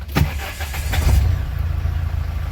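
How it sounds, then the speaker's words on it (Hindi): A car engine cranks briefly and catches, then settles into a steady, low idle that continues to the end, close and moderately loud with no one talking. "और गाड़ी को करते हैं एक बार स्टार्ट।"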